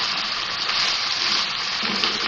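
Machine-minced meat (qeema) for green chili qeema being roasted in a pan: a steady, close, hissing sizzle without pauses, with no talking.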